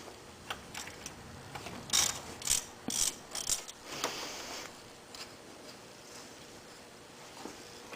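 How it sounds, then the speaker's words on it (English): A 10mm socket on a ratchet backs a bolt out of a Ford Zetec engine, with a few quiet clicks, then a short run of sharp, distinct ratcheting strokes before it fades to faint handling noise. "just get you a 10mm and take this bolt out"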